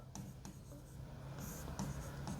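Chalk or a marker writes on a board during a Class 10 maths lesson, making steady, close, scratchy strokes with brief pauses between them.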